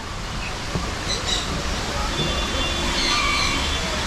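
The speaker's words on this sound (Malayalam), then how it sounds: "ഇവിടെ വരുമ്പോൾ വെള്ളച്ചാട്ടത്തിൻ്റെ സൗണ്ട്" A waterfall in a large South Indian eco park gives off a steady, even rush of falling water, moderately loud and unbroken, with faint human voices in the background.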